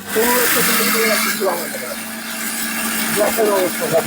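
A 1500-watt electric blender motor whirs steadily throughout while a person talks over it.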